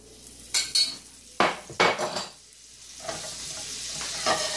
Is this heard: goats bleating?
no